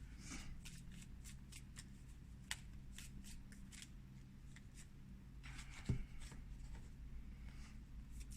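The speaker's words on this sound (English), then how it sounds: "Let's get a couple of cards from the Isis deck." An Isis oracle deck being shuffled and handled: soft, papery card riffles and slides come in bursts, quiet and close, with a small tap partway through and no talking.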